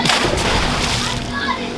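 Water splashing at a child's birthday party: dense, broadband sloshing and spattering close to the microphone for under two seconds, with voices mixed in.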